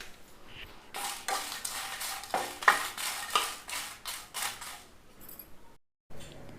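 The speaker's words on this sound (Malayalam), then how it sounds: "എണ്ണയൊന്നും ഒഴിക്കണ്ട, നമ്മൾ ചട്ടിയിലിട്ടിട്ട് മുളക് വറുത്തെടുക്കാം." Red chillies are dry-roasted without oil in a pan. A close series of rhythmic scraping strokes of a spatula sweeps through them with soft rustling, then stops for a short pause near the end.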